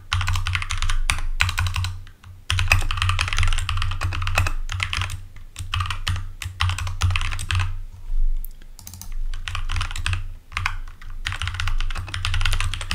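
Code is typed on a computer keyboard in uneven bursts of rapid, crisp key clicks separated by short pauses, close and clear for about thirteen seconds with no talking.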